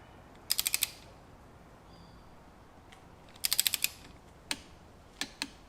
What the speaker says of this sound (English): So using the 5/8 again, we're just going to torque this baby up.